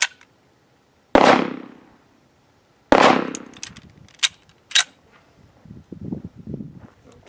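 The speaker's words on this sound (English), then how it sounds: "shoot this through the chronometer and see how these bullets fly." Two loud, sharp shots from a Magnum Research Desert Eagle .50 pistol fired from 3 yards through a chronograph, each with a ringing decay, followed by a few softer clanks and handling knocks.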